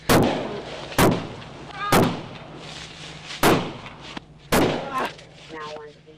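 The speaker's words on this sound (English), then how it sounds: "a deputy exchanging gunfire with a suspect" Five loud, sharp gunshots from a deputy and a suspect exchanging fire, recorded by a dash cam, ring out at irregular intervals, each cracking sharply with brief echoes, over a low steady hum.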